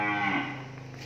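A single long, low moo comes from a cow at a cattle farm. It is fairly faint and drawn out, with no talk over it.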